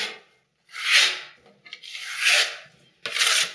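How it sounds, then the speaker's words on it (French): A smoothing blade spreads a coat of filler across a ceiling, giving three broad scraping strokes with short pauses between them, close and fairly loud with no talking. "Je fais le périmètre pour pouvoir passer la lame à enduire avec un peu plus de facilité."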